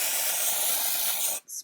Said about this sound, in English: I kind of section my hair and take some dry shampoo